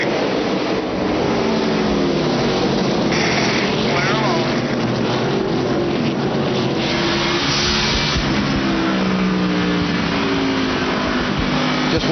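Race cars circle the track at an ARCA stock car race in Toledo, a continuous engine roar rising and falling as cars pass, heard under an announcer's commentary.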